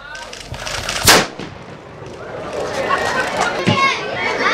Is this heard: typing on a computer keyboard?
no